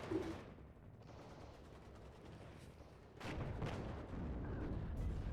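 Tank cannon fire from Leopard tanks in the WARNO wargame, with continuous rumbling battle noise and a louder burst of blasts midway, dense and heavy throughout.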